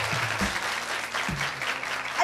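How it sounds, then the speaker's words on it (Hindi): Sustained applause from a TV show studio audience, steady clapping throughout with a low hum underneath. "बहुत सारी तालियां"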